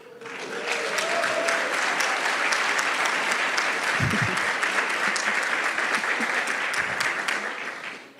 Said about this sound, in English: I don't know if you're clapping because we just made it to that point